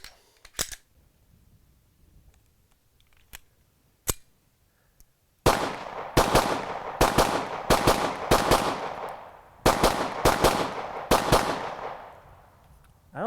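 A Hudson H9 handgun fires in a rapid string of sharp, loud shots, preceded by a few scattered clicks and single pops, close and with no talk.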